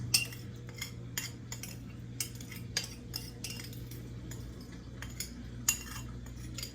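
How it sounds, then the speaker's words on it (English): Food with onions stirred and tossed in a pan, sharp metallic utensil clinks and scrapes at irregular intervals over a low steady hum, close and fairly quiet. "Let me just give this another quick stir. I will add a little bit of onions to this side as well."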